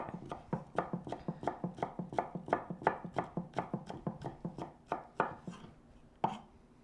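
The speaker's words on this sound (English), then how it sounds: "You can use a ginger grater or a regular grater or just chop it." A knife chops kelp on a board in a rapid, even run of close, crisp thuds, about fifteen strikes, then a few slower final cuts.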